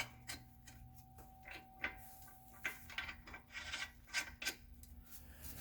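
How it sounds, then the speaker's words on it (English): Steel nuts threaded by hand onto studded bolts during a lower ball joint replacement on a 2013 Hyundai Santa Fe 2.0 Turbo, giving faint close scraping, ticking and rasping metal clicks in irregular bursts, with no talk. "Grab your nuts, these guys here, and thread them on."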